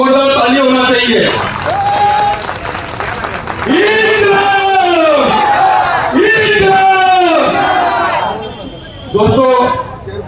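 Protesters at a rally against Adani in Dharavi shout and cheer together, with loud, swelling rhythmic chants and bellowed cries rising and falling in waves over scattered clapping.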